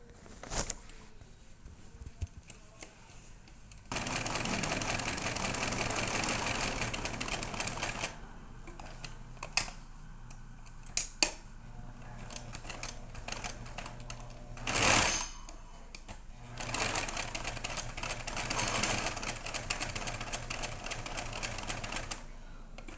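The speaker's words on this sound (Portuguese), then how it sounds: "Então eu vou costurar os dois bracinhos por inteiro e o corpinho de um risco a outro." Sewing machine stitching the arms and body of a small fabric toy mouse, close-up bursts of rapid mechanical whirring separated by pauses and a few soft clicks and handling noises, with no talking.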